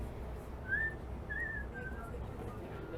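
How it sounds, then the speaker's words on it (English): Whistled melody from a song recording, a few short sliding notes heard faintly over low background noise. "They left the whistle part in there."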